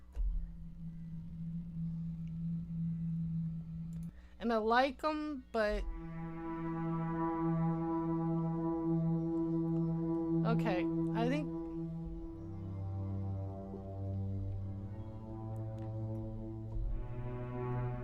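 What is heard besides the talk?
synth soft pad preset Ambient Wind with heavy reverb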